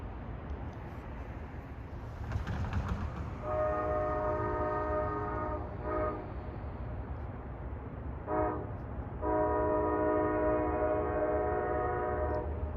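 A Long Island Rail Road DE30 diesel locomotive passes outdoors on a calm day, its multi-tone horn sounding in two long blasts with short bursts between, over a steady rumble of engine and wheels.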